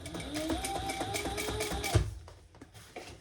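A sewing machine stitches fabric up to a strip of elastic on a diaper backpack, a steady close mechanical whir with rhythmic needle ticks for about two seconds before stopping, followed by faint handling clicks.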